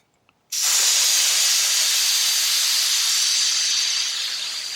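Propane hissing out of a 1 lb tank's pressure relief valve: a sudden, steady, loud hiss that starts abruptly after a brief click and holds for several seconds before easing slightly.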